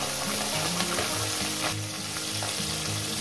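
Rohu fish head and swim bladder fry in hot oil already used for frying potatoes, a dense, steady sizzle that crackles close by for the whole stretch with no talk over it.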